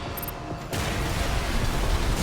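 Armored Core VI mech gunfire in an arena duel: after a quieter opening, a dense, loud, continuous barrage of rapid shots kicks in and holds steady to the end.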